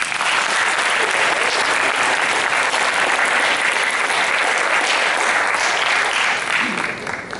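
Sustained applause from a school auditorium audience welcoming a guest speaker at an Academy of Science St. Louis and Kirkwood High School event, loud, dense and steady throughout, tapering slightly at the end.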